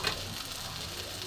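Vegetables frying and sizzling in a pan, a steady close hiss that runs through the whole moment and ends with a brief louder scrape or clatter.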